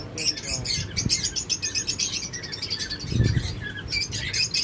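Caged pet lovebirds and cockatiels chirp in a dense, continuous chorus of rapid high tweets, close by and fairly loud, with a few low thumps underneath.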